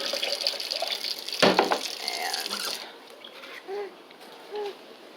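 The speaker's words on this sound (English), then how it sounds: "Pour it in here." Liquid poured into a pot on the stove while making enchiladas verdes, a steady splashing pour that gives way to softer bubbling and sloshing with a few gurgles near the end.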